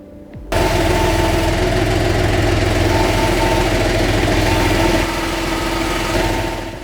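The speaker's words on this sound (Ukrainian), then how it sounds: "Дивимося, чи впорається трактор з цим навантаженням." A YTO 244SX tractor's heavy engine starts up abruptly and runs at a steady, loud, rumbling idle with a constant low drone while lifting a 572 kg load, easing slightly near the end.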